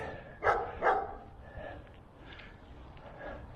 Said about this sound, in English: he's trained to bark at people just going by